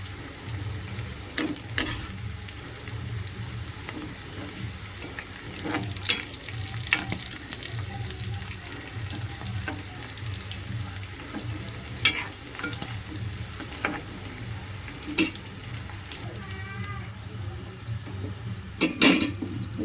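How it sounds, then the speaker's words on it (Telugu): Green chillies fry in hot oil for an Andhra-style fish curry, a dense continuous sizzle broken by sharp pops and spatters, with metal spoon scrapes and clinks against the pan at irregular intervals. "మనం ఇలా పచ్చిమిరకాయలు అవి వేసేటప్పుడు అవి ఎగిరి పైన పడుతూ ఉంటాయి"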